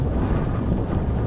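Strong gusting wind buffets an outdoor microphone at a model airplane flying field, a steady loud rumbling roar with no pause and no voices.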